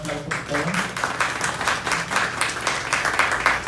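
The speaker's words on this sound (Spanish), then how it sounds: "Un aplauso por todos." Audience applause at a book presentation on family therapy, a dense steady wash of many hands clapping at close range, with a speaking voice briefly audible at the start.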